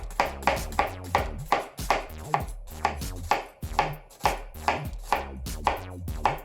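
A knife dices an onion on a cutting board in quick, evenly spaced chops, with about a dozen crisp close knocks in bursts and short pauses, loud and clear with no talking.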